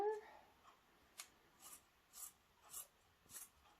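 Scissors cutting through a cotton t-shirt below the last seam, about five soft crisp snips at a slow, even pace, close and quiet, following a brief murmur of voice at the start.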